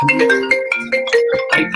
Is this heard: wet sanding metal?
no